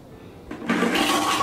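A toilet flushes close by. It opens with a brief click, then a loud rush of water surges in and keeps pouring steadily.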